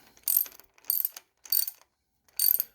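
A ratchet tightens bolts on a 12-volt starter for a Cletrac HG-68 crawler tractor, heard as four close, crisp bursts of rapid clicking, each about a quarter second long, with short silences between.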